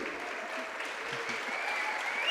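Audience at a Brazilian online lecture on Adinkras and African ancestral wisdom gives a steady, even round of applause, sustained throughout with no pauses.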